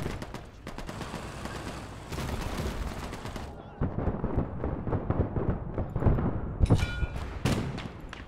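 Gunfire and explosions from the World War II strategy video game Gates of Hell, with a Panzer II and a T-28 tank nearby, sound as dense overlapping shots and blasts, loud and continuous with sharp bursts throughout.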